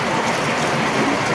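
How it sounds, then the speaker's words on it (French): Heavy rain pours steadily onto a vegetable garden, making a dense, loud, unbroken hiss with no voices over it. "Voilà une petite pluie."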